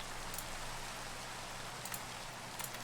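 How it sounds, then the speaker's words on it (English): Steady rain falls in the video game Minecraft, a constant, even hiss of close, moderately loud rainfall with no speech. "Then unfortunately it started to rain"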